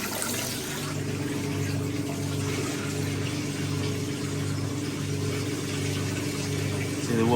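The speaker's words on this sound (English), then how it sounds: "turn the machine on and it'll start pumping out" A 1958 Hotpoint Empress washing machine's drain pump runs steadily, pumping out dirty wash water with a continuous low motor hum and gurgling flow, fairly close and uninterrupted.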